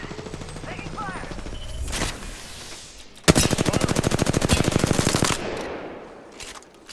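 A rapid burst of automatic gunfire hits the squad in the battle-royale shooter Apex Legends, loud and close for about two seconds after a quieter stretch of game noise.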